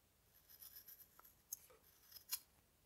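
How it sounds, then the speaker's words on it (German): Scissors snip through a woven stove door gasket rope on a wood-burning stove, a few faint, crisp clicks and rasping cuts scattered over a quiet background, the strongest near the end. "dass wir hier unser Ende mit einer Schere einfach kürzen"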